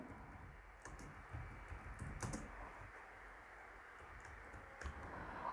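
Quiet computer keyboard typing while a subheading is entered in a document, with scattered soft key clicks over a steady background hiss, a few slightly louder taps standing out.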